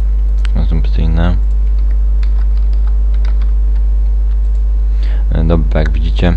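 Someone types on a computer keyboard, making faint, quick clicks under a strong steady mains hum, with someone speaking briefly at the start and near the end.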